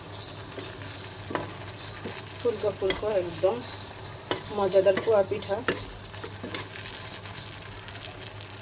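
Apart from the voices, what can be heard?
ripe banana poa pitha frying in oil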